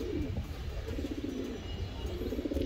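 An A-grade pair of racing pigeons gives steady low cooing, a run of soft rolling calls repeating through the moment at close range, with no talking.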